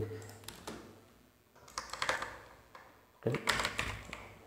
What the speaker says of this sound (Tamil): அஃபிலியேட் ப்ரோக்ராம் டைப் பண்ணி பார்க்கலாம்.